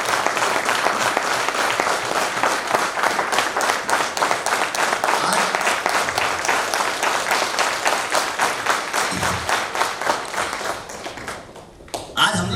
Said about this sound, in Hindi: आज हमारे लिए ऑफिसर सिंदूर के लिए शानदार ताली हो जाएगा